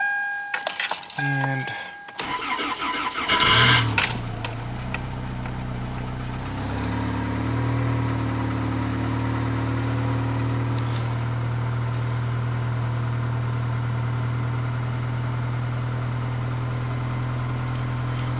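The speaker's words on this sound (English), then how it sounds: "Cold start the Corolla." Toyota Corolla cold start: keys jangle near at first, then the starter cranks and the engine catches into a steady, even idle that settles and holds for the rest of the clip.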